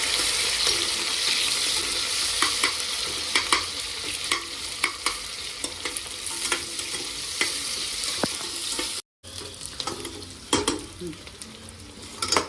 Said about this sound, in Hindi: अब इसमें डालूंगी मैं ओनियन। अभी इसको अच्छे से मैं फ्राई कर लूँगी।